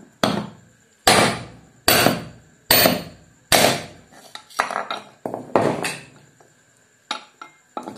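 Sharp metallic hammer blows on a cooler motor as its worn, badly cut shaft is knocked out for replacement, about five loud evenly spaced strikes followed by quicker, lighter taps and clinks, close and with no talking.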